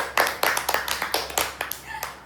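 Children clap for a competition winner at a clay modelling contest, a quick burst of close, uneven handclaps lasting a couple of seconds.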